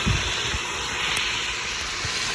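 Paprikash sauce base sizzles in a hot pan, a steady broadband hiss with faint low thumps, close and continuous without talk.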